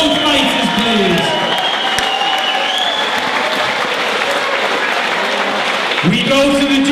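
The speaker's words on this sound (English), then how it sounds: "can we have a massive round of applause for both fighters, please?" A ringside club fight crowd applauds both boxers after the bout, a dense, loud wash of clapping that runs steadily throughout, with a voice briefly heard near the start and again at the end.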